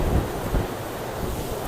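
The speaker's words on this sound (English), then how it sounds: "Dang, it got really windy back here." Strong wind from Typhoon Nida in Central Hong Kong buffets the microphone, a loud rumbling roar with gusty surges near the start, steady and unbroken.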